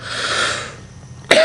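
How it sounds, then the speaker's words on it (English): A person coughs during a Zumba fitness instruction session: a single sharp, loud burst at the end, preceded by a breathy, hissing exhale. "sorry, I've got a bit of a cough."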